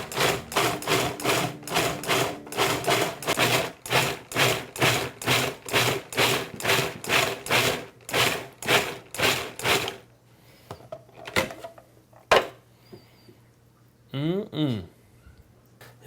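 A food processor pulses salsa ingredients in about twenty rapid, rhythmic whirring bursts over ten seconds, then stops; a few clunks and a voice follow afterward.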